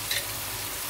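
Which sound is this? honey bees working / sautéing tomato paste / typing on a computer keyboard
sautéing tomato paste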